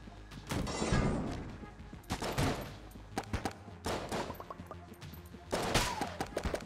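Rapid bursts of pea shooter gunfire in the Enter the Gungeon video game crackle in quick volleys separated by short pauses, loud and punchy with scattered impact pops.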